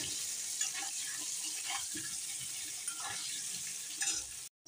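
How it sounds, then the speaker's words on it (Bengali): Potatoes with salt and turmeric frying in oil, a steady close sizzle with faint crackles and occasional stirring clinks, continuing without talk until it cuts off abruptly near the end. "নুন হলুদ দিয়ে আলুগুলো ভালো করে লাল লাল করে ভেজে নেব"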